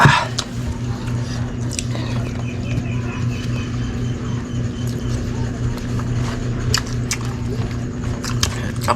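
Someone chews adobo-cooked textile cone shell meat close up, with soft wet chewing and biting over a steady low hum and occasional faint clicks.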